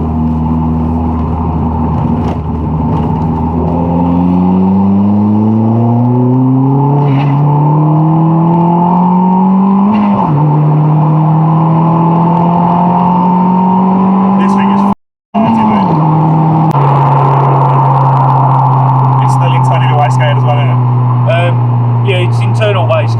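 Turbocharged Ford Fiesta MK6 ST150 running about 297 bhp on a standard internal wastegate with a 14 psi spring, revving hard in repeated rising sweeps, loud and close, with a brief cutout midway and a voice talking over it.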